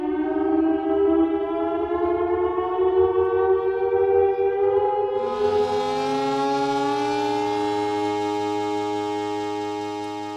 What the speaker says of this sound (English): There's sirens and alarms